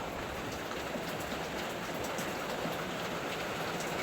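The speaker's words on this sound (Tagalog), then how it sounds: "Ang lakas ng ulan guys," Heavy monsoon rain pours steadily onto a small shop roof, a dense, even hiss with scattered drop impacts, fairly distant and continuous with no talking.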